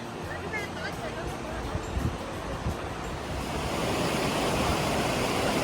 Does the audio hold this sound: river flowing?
yes